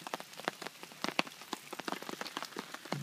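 Rain pattering on a hammock's fabric cover outdoors, a quiet, close, irregular flurry of individual drops tapping alone with no voices.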